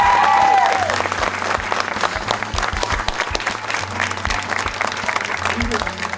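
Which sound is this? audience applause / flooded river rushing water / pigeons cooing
audience applause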